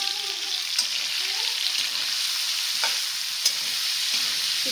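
Paneer frying in oil, a constant bright sizzle with occasional stirring scrapes, a faint voice briefly at the start.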